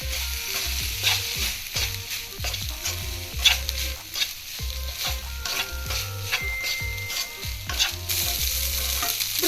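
Sweet corn vegetable fried rice stirred and tossed in a hot pan after salt and soy sauce go in, with steady sizzling, scraping utensil strokes and clinks running throughout.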